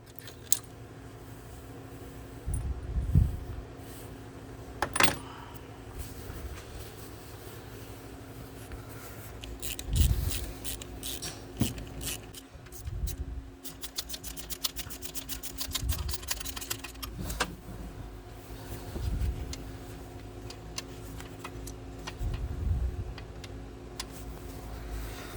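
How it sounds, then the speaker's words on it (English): Bolts being removed on a BMW N63 V8 alternator job, scattered metallic clicks, ratchet ticks and tool clinks at close range over a steady low workshop hum, with no talking. "let's just proceed removing these bolts and let them out of the way"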